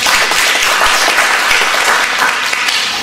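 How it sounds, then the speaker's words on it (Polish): A loud, dense burst of audience applause fills an academy event hall, many hands clapping steadily and evenly for the whole stretch without pause, with only faint voices underneath. "burza oklasku dla pana rektora"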